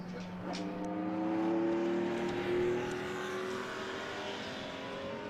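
Historic race cars at Donington Park, with engines droning and rising in pitch at a moderate distance as they accelerate along the circuit and hold steady.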